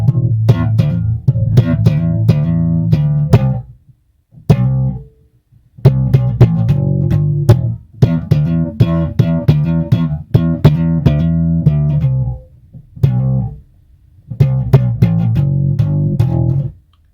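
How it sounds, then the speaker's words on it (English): A Squier Classic Vibe 60s Jazz Bass fitted with EMG pickups plays a run of plucked notes in phrases, close and loud, with short silent gaps between groups and no talk. "So that's the sound of an EMG on a very cheap guitar"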